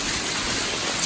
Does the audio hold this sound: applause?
no